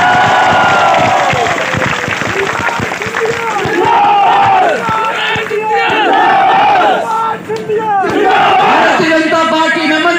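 A large crowd at a political rally in India cheers and shouts loudly and continuously, with clapping in the mix, swelling and dipping in waves for the whole stretch.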